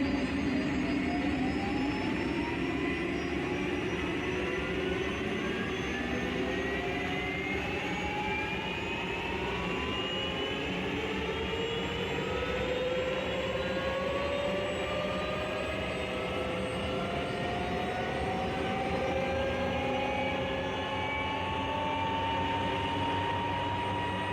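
A Bell 407 helicopter turbine spools up during engine start in the X-Plane flight simulator, a steady loud roar with whining tones climbing gradually in pitch, no talking.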